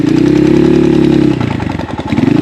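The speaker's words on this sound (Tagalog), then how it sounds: "Meron pa silang ginagamit na motor para ipump yung tubig" A water pump motor at a fishpond drones steadily, loud and close, then shifts to a rougher, pulsing chug partway through with no talking.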